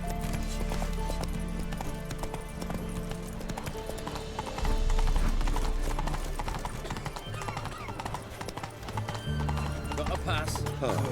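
Hooves of Roach, a horse in The Witcher 3: Wild Hunt, clip-clopping in a steady rhythm with an occasional whinny, set among game music and ambience while a voice talks over it.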